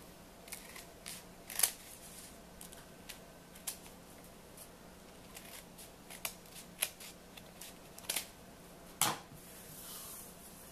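Scissors snipping through a stack of paper bags, a series of sharp, crisp cuts and paper rustles spaced irregularly over a quiet room background, close to the listener with no voices.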